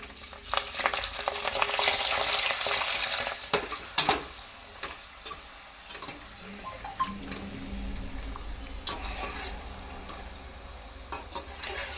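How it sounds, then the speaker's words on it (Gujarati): Hot oil poured over potatoes for a garlicky potato dish crackles into a loud, close sizzle that swells then settles into softer frying with scattered clinks and stirring taps, no talk. "થોડું ગરમ તેલ આમાં બટેટામાં નાખી દેવાનું છે."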